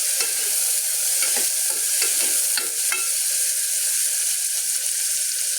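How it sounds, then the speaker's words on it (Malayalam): Onions and tomatoes fry in a hot pan for chickpea curry, a steady close sizzle broken by several scraping stirs of a spoon in the first three seconds, then continuous frying alone. "നല്ല പോലെ ഒന്ന് ഇളക്കി കൊടുക്കാം."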